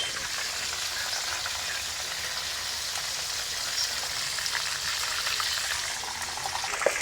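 Skin-on Atlantic salmon sears in a hot pan until the skin turns crispy, giving a steady, close, unbroken sizzle and crackle that holds evenly throughout with no talking.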